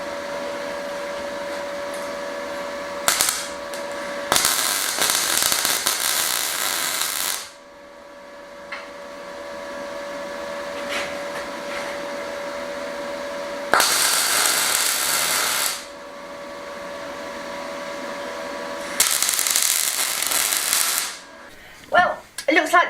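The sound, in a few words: tack welding steel bench frame held by magnets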